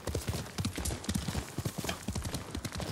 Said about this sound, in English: My horse Kage, let's go.